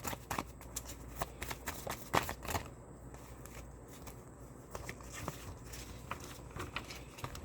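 Message cards shuffled by hand, a continuous close patter of riffling and sliding card edges with occasional sharper snaps, no speech over it.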